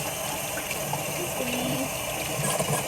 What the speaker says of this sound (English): I'm going to show you how I wash the pumpkin leaves.